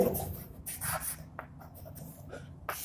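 Pen writing on a surface, a few short scratchy strokes, close and faint, with brief pauses between them.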